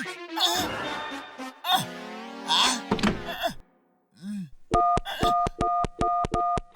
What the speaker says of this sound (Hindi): मैं अमेरिका अपनी मम्मी को फोन लगा रहा हूँ।